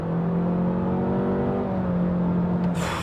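Engine of a 2025 Honda Accord SE pulling hard under throttle, a steady close droning tone that climbs slowly in pitch with a brief rising whine near the end, continuous and loud with no talk.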